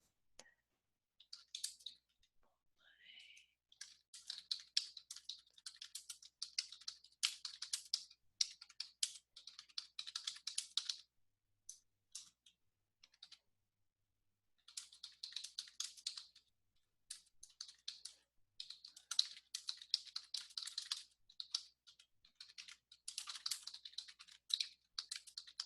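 A computer keyboard clacks as sentences are typed into a Word document, with quick, irregular bursts of keystrokes and short pauses between them, close and clear in a quiet room.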